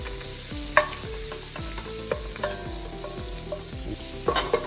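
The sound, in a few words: butter melting and foaming in a pot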